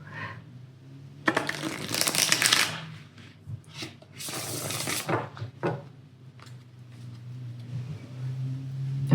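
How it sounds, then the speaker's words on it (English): A tarot deck is shuffled up close: bursts of riffling, flapping card noise come in several rounds, separated by brief pauses and soft handling. "Let me just shuffle my deck first in order to make things flow"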